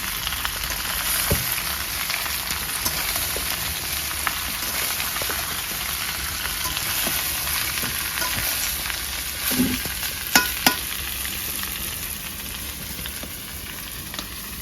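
Carrots and potatoes frying in a pan, a constant rain-like sizzle held throughout, broken by a few sharp utensil clicks and scrapes near the middle.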